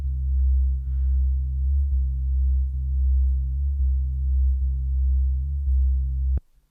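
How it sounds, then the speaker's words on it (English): Sawtooth synth from the OB6 wavetable shape in Ableton Wavetable through a 24 dB low pass filter, a deep, dark sustained bassline with repeating notes, cut off abruptly at the end. "We have a sawtooth from the OB6 shape from the vintage wavetable bank in Ableton Wavetable, going through a 24 dB low pass filter"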